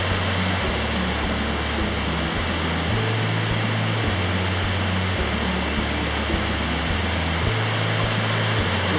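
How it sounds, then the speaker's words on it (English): A mountain creek in New Hampshire's White Mountains rushes along a hiking trail, a loud, steady broadband roar of flowing water over nine seconds, with low thumping wind or handling noise underneath. "there's lots of water in this creek or whatever."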